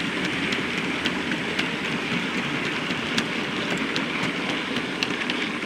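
A train hauled by an 8F steam locomotive rumbles past in a continuous broad roar with faint intermittent clanks, steady and fairly loud throughout.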